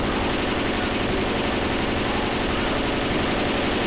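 Rapid, continuous gunfire in Left 4 Dead during the farmhouse finale of the Blood Harvest campaign, loud and unbroken throughout with no pause between shots.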